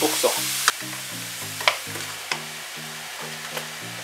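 Lean 5% minced beef frying in a wok while being stirred, giving a steady close sizzle over a low, even pulsing hum, with several sharp scrapes of the utensil against the pan.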